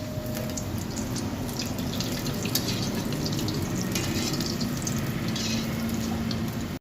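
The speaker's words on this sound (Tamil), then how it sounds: "இது ப்ரௌனிஷ் கலரில் வர வரைக்கும் நம்ம அப்படியே ஃப்ரை பண்ணிட்டே வரணும்." Balls fry in hot oil, giving a steady bubbling sizzle with scattered crackles and pops throughout, moderately loud and close, with no talking.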